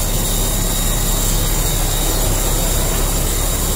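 A 1987 Ford 8000 water truck with a Caterpillar engine revs up, giving a steady, loud, broadband diesel roar throughout with no pauses and no voices.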